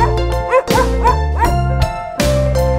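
A dog barks several times in a short rhythmic run with yips between them, close and loud within a children's nursery rhyme song, with sung music underneath.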